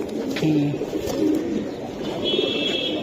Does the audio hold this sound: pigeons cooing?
yes